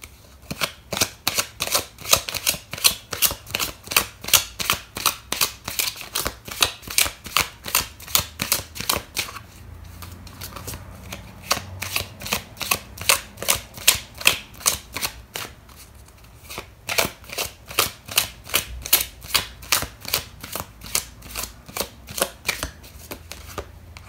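Tarot cards are shuffled and pulled close up, a fast, steady run of crisp riffling flicks that continues for the whole stretch with only a brief lull partway through and no talk.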